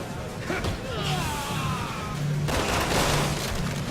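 Gunfire in Resident Evil 6 Mercenaries mode aimed at a mutating enemy's legs: a burst of shots with sharp cracks, a loud blast near the middle, and dense combat noise and effects layered throughout.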